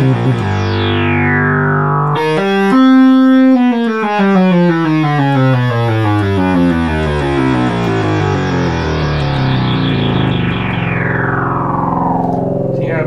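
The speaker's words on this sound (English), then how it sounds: "As you can hear, here's all three oscillators on." A serviced 1977 Minimoog Model D synthesizer plays with all three oscillators on, a loud, buzzy, distorted sustained tone sweeping through pitch in long glides for over ten seconds, alone with no talk.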